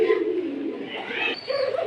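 Cream-coloured Giribaz high-flyer pigeons of an old breed coo and call close by in a loose string of soft, warbling notes, with a brief higher chirp partway through.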